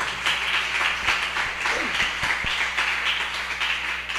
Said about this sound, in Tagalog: Pumalakpak sa Diyos.